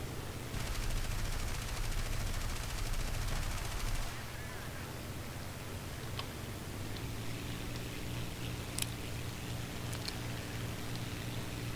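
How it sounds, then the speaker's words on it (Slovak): Rapid machine-gun fire in the aircraft and tank combat game War Thunder rattles in a fast, continuous burst for about four seconds, then fades to a quieter engine drone with a few scattered distant shots and clicks. "Au, kto po mne strieľa?"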